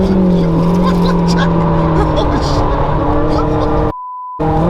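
A race car driven flat out around the Castle Combe circuit, a loud sustained engine roar with wavering pitch close up, briefly cut to silence near the end, with a voice speaking over it.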